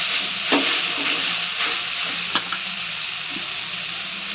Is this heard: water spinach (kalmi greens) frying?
yes